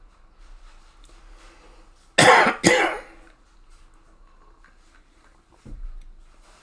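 Two sharp, loud coughs in quick succession from a person close to a microphone, then a softer throat sound a few seconds later, against a quiet room.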